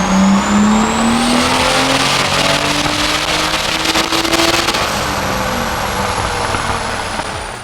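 Boosted 2JZ engine in a Toyota Supra on a dyno, a loud, close, sustained run with the pitch climbing steadily under high boost before easing off near the end, no voices over it.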